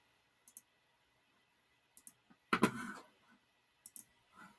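Keys are pressed on a TI-84 graphing calculator, giving scattered quiet plastic clicks in pairs and singles, with one louder rattling knock in the middle, close and otherwise quiet.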